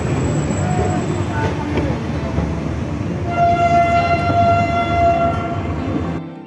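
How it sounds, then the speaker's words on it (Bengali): A passenger train departing Shalimar junction at night, its horn sounding a sustained tonal blast over the low rumble of the rail cars and station ambience. "আমাদের ট্রেন ছাড়লো"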